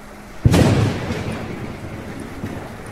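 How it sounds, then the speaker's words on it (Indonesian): A sudden, sharp thunderclap cracks loudly directly above a building, then fades into a long, low rumbling roll with faint rain in the background. "lalu disusul suara petir yang sangat keras"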